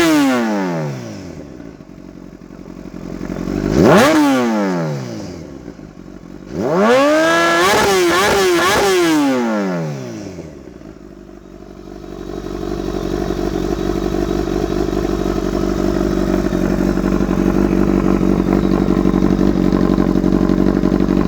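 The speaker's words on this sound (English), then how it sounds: "when I crank it up in the garage and let it run, the idle's probably a couple hundred RPMs high right now" A 2004 Kawasaki ZX-10R with an Akrapovic exhaust, running in a garage, revs up and falls back twice in quick sweeps, then settles into a steady, loud, slightly high idle that rumbles on alone.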